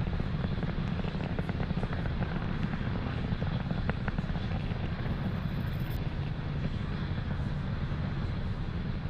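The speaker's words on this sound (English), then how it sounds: "You just saw their Falcon 9 transitioning to faster than the speed of sound." SpaceX Falcon 9 rocket climbing after launch from Cape Canaveral with Starlink satellites, a continuous dense rumbling roar with crackle, loud and unbroken throughout, with no voices over it.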